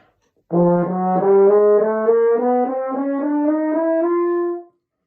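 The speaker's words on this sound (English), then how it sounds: "They invented the valves, and that means you can play even more notes" A mellow valved French horn plays a smooth run of sustained notes, stepping up and down in a steady melodic line, alone and fairly close, for about four seconds.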